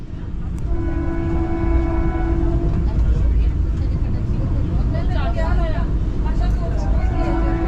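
The Howrah Rajdhani express accelerating from slow to high speed, a steady loud rumble of wheels and carriage noise with tonal hums and whining, while people talk over it.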